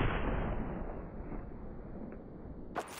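A rifle shot in Battlefield 4 sounds as one loud booming report at the start, its roar and rumble fading slowly over a few seconds before a brief faint click near the end.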